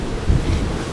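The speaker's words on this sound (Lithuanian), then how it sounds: "Lietus įsibėgėjo po truputį, vėjas irgi kyla." Wind gusting hard near the sea deep in Doubtful Sound fjord in New Zealand, a loud continuous roar with buffeting and surf-like wash under rain.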